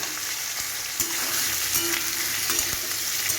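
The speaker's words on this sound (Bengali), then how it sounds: "জিরেটা ভাজা হয়ে গেছে। এবার এর মধ্যে এই আলুগুলো দিয়ে দেবো।" Boiled potatoes added to hot oil with fried cumin seeds for an alu morich dish, a steady sizzle with a few scraping stirs, no talk.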